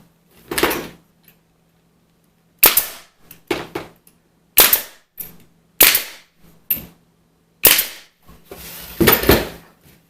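An air stapler drives 1.5-inch staples while a box-style swag is assembled: a series of loud, sharp pneumatic bangs, some single and some in quick pairs, separated by silent pauses.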